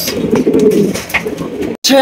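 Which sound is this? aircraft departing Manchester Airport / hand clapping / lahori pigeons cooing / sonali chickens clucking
lahori pigeons cooing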